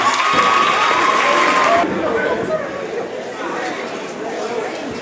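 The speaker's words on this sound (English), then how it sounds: "We'll get a round of applause for all of our honorees." Applause and cheering from a banquet crowd honoring athletes and cheerleaders at a middle school athletic banquet, loud and sustained at first, then fading into a softer hubbub of chatter.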